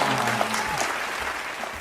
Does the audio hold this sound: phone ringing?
no